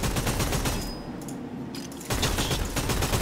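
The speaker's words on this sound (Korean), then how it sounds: "와, 내가 장전 속도를 보여줄게. 봐봐. 쏜다. 쏘고, 끝." Rapid gunfire bursts in the video game Warhammer: Vermintide 2, loud and dense for about a second, a short quieter reload gap with mechanical clicks, then another burst of shots.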